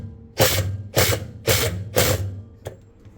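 Ratchet wrench tightening the drum nut of a top-load washing machine: four loud, evenly spaced bursts of clicking, followed by one short sharp click.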